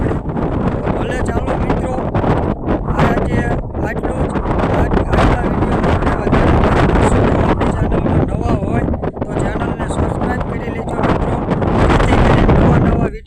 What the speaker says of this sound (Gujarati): આજે પવન પણ બહુ છે